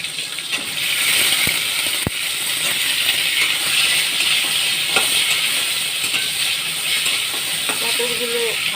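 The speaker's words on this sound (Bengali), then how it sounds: "এবার পটলগুলো ভাজতে দেব।" Pointed gourd (potol) frying in hot oil in a wok, a loud, continuous bright sizzling hiss with a few sharp clicks and taps of utensils.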